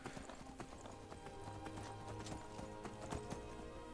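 A horse in the video game Skyrim, its hooves clip-clopping in a steady rhythmic trot, close and continuous over a dense game soundscape.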